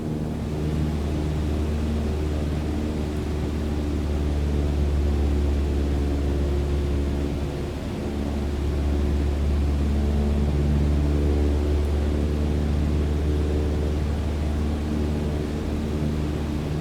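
Steady drone of a light aircraft engine at cruise power, throttled to about 2300 RPM in Microsoft Flight Simulator 2020, a continuous, even propeller hum with a brief dip midway and no talking.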